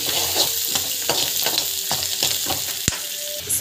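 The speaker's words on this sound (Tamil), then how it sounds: "ஸோ நல்லா வந்து வதக்கிக்கோங்க." Chana dal, grated coconut and asafoetida sizzling in oil in a pan, a steady close frying hiss with repeated scrapes and clinks of a spoon stirring, and no voices.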